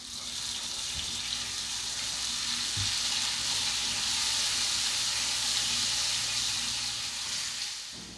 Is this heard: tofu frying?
yes